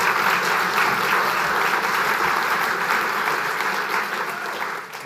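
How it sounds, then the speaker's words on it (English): A Canadian Club of Toronto audience welcomes a private equity panel with sustained, loud applause, many hands clapping steadily before it begins to taper near the end. "a round of applause to welcome our panel"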